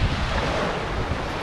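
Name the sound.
sea waves on the shore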